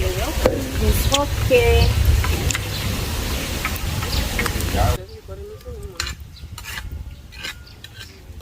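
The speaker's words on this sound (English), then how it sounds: "After putting in the spices and the onions, they keep stirring to make sure they don't get burnt down in the pot." Spices and onions frying in a pot for Liberian fried rice, with a steady sizzle and the scrape and clink of stirring, while people talk briefly nearby.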